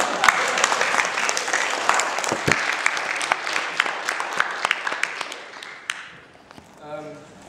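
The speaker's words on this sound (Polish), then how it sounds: "wszyscy w związku z tym będziemy klaskali" Audience applause at a meeting with the makers of a TV series, dense sustained clapping from many hands that gradually thins and fades out near the end, where a voice begins speaking.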